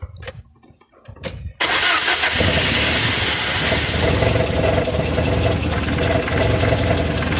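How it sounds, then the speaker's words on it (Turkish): A Peugeot 405 1.9 SRI with a rough-running engine: a few faint clicks and cranking, then the engine catches loudly at about 1.5 s and settles into a steady, noisy, close idle. "Aracımızda biraz motor sıkıntılı gibi çünkü aracımızın her yeri titriyor."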